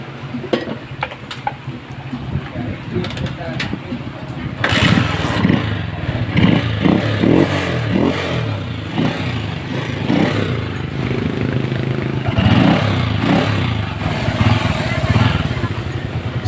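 Motorstar X125 motorcycle engine with a freshly repaired carburetor starts after a few clanks and settles into a steady, loud running idle with occasional revs, close by, with some talk over it.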